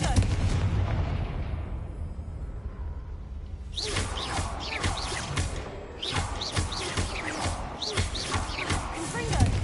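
Explosive spell blasts in a wizard video game arrive as repeated sharp booming cracks with whooshing tails, some layered over one another, loud and close, alongside shouting voices.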